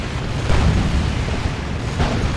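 Ork Tank Buster barrage explosions pounding a Space Marine Land Raider in Dawn of War 2: dense, rumbling booms rolling continuously, with a couple of heavier bursts rising out of the din.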